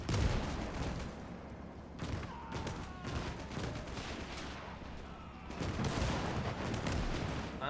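Bursts of Panzer III tank machine-gun fire and other gunfire crackle continuously in a WW2 video game battle, dense rapid volleys layered with distant artillery thumps, loud and sustained throughout.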